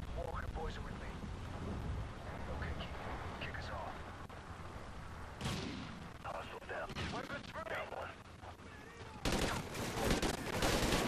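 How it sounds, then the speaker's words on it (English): Gunshots in the video game Call of Duty: Ghosts: a busy combat mix of scattered shots and booming fire under a voice talking, ending in a louder burst of rapid firing. "Shots fired, shots fired."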